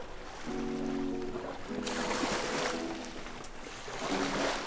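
A small dinghy motors across turquoise Bahamian water off Eleuthera, its outboard droning steadily and close while water rushes and splashes against the hull in surging bursts, with no voices.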